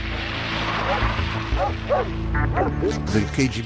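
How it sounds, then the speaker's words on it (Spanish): Dogs at a border checkpoint bark and yip in quick bursts, several sharp calls close by over a steady low engine hum, with someone speaking in Spanish over them. "incluso el ladrido de los perros del KGB"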